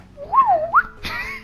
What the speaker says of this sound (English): You have like a slide whistle for whenever we complete our actions